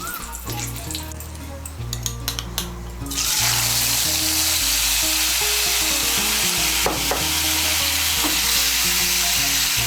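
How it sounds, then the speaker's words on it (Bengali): Ginger, green chilli and cashew pastes hit hot oil in a pan with a loud, steady sizzle after a few seconds of stirring clatter, frying continuously close up with occasional utensil scrapes. "ফোড়নটা দিয়ে একটু নাড়াচাড়া করে নিয়ে এর মধ্যে দিয়ে দেব আদা বাটা, কাঁচা লঙ্কা বাটা আর কাজু বাদাম বাটা।"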